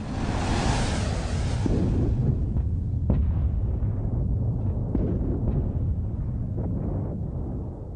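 Deep rumbling blasts and whooshing roars of debris bombarding young protoplanets, a loud sustained boom that fades gradually with a few sharper thuds along the way.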